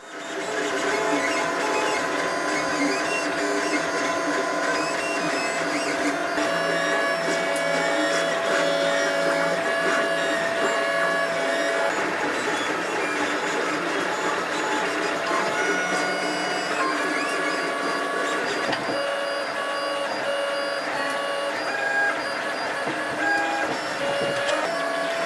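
A 3D printer running steadily while printing body panel parts for an Iron Man Hulkbuster cosplay suit, its stepper motors whining and chirping in shifting tones, a continuous close mechanical hum with no talk.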